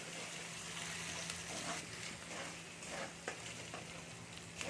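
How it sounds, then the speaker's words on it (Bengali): Ginger fries in a pan for an Assamese-style potato and okra dish, a soft, even sizzle with a few faint stirring taps, quiet and close, no one speaking. "দেখুন এখানে আমার আদাটাও একটু ভেজে নিচ্ছি"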